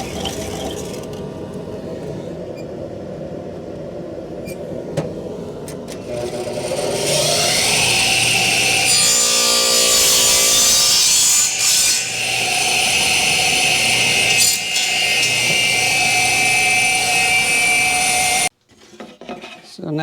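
Rough, rasping strokes of a hand saw cutting a wooden window drip edge to size, close and sustained, starting quietly and growing louder before stopping abruptly near the end.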